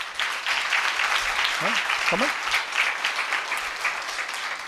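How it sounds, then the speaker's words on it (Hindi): A church congregation claps hands together at a worship service, a dense, continuous wash of applause filling the room while a voice speaks briefly over it. "बजाइए ताली।"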